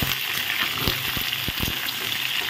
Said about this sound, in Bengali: এখন দিয়ে দেবো আমি সবজিগুলো। সবজিগুলো দিয়ে ভালো করে নেড়ে চেড়ে নেবো।